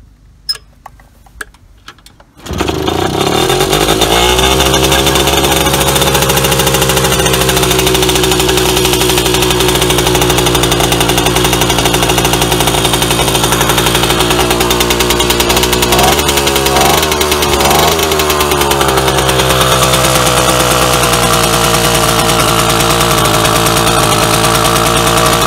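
A Romet Motorynka M2 moped engine, restored and modified from an 017 to an 023 setup, catches after a few faint clicks and runs steadily with a loud, close, buzzing idle that wavers briefly midway, with no talking.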